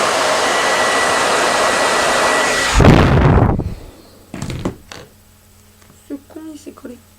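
A hair dryer blows steadily on a cosplay prop phone for Riko Aida from Kuroko's Basket, a loud continuous rush that cuts off abruptly, followed by a few knocks and a voice speaking briefly.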